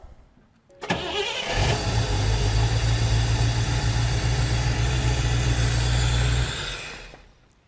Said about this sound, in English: prime the system, try to start the engine